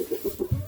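Several chickens cluck in short, low, close calls inside a chicken coop, three or four quick clucks in under a second.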